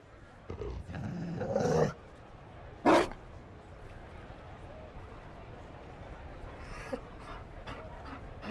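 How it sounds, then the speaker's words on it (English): A Mabari war dog in Dragon Age Inquisition gives a couple of close, breathy bursts of panting, then falls quiet. Voices talk over the quieter stretches. "You found a dog. They don't breed Mabari in Olay."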